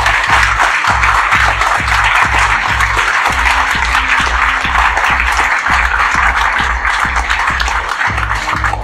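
Loud, sustained applause from a seminar audience for an IIT Bombay computer science student, steady clapping filling the whole stretch with a low rhythmic beat running underneath.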